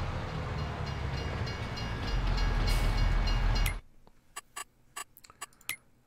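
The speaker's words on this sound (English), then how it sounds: "Is the train coming? I see the lights flashing." A train thunders past in Farming Simulator 22, a loud sustained rumble with clattering wagons that cuts off abruptly, then a few sharp clicks in near silence.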